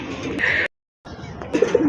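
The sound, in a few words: pigeon cooing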